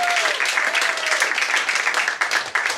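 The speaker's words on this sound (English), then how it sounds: "Don't go breaking your hands clapping." Audience applauding at the close of a stand-up comedy set, continuous crowd clapping throughout with scattered cheers and a few voices mixed in.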